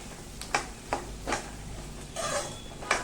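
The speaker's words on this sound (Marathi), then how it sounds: "हे बघा गाजर छान हलवून घ्यायचं" A utensil scrapes and knocks through chopped carrots in a pan, giving several soft, evenly spaced stirring strokes with a faint sizzle underneath, recorded close and quiet.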